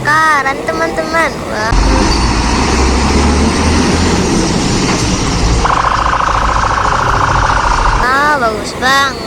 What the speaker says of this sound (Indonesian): Wow, ini adalah mobil pemadam kebakaran teman-teman.